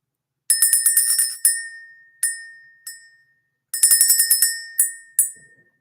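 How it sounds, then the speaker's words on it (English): A bright bell chimes repeatedly in two bursts, several quick rings followed by single strikes, each ringing clearly and decaying in quiet, rung to clear the energy in a room. "Let's ring the bell"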